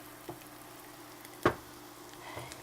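Seasoning is stirred in a pan while cooking kushari, giving a faint, quiet sizzle with a few soft scrapes and one sharper clack of the utensil near the middle.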